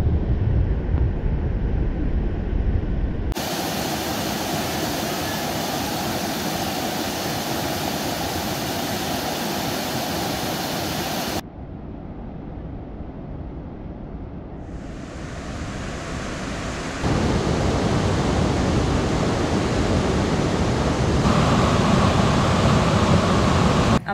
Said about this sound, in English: And finally I made it to the waterfall.